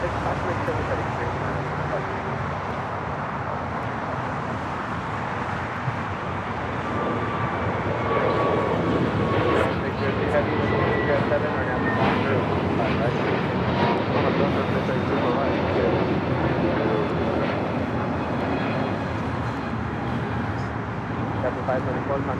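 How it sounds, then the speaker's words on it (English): An Airbus A321neo jet takes off from LAX bound for JFK, its engine roar a steady broadband rumble that swells slightly midway and holds loud throughout, with voices talking over it. "This A321 Neo understood the assignment, taking off to JFK"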